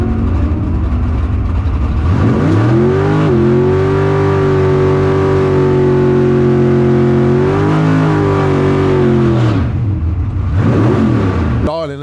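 A drift car engine roars loudly and steadily on a track, revving up, holding high, then dropping and rising again, close by with no other sounds over it.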